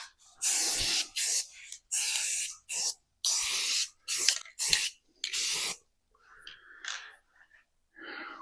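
Rust enamel spray paint hisses from an aerosol can in a series of about seven short, loud bursts separated by pauses, followed by fainter scuffing sounds while coating a tonneau cover.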